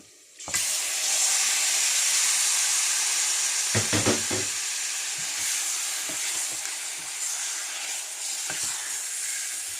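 Chicken pieces drop into a hot pan and immediately erupt into a loud, steady sizzle, with a brief clatter of stirring midway and the frying hiss continuing without any talk.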